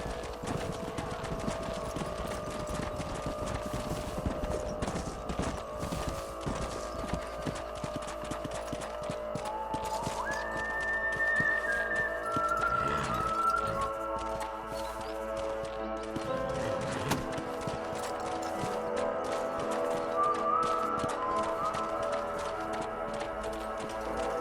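Horses' hooves clip-clopping in Red Dead Redemption, a steady patter of hoofbeats running throughout amid game ambience, with occasional tonal sound effects layered over them.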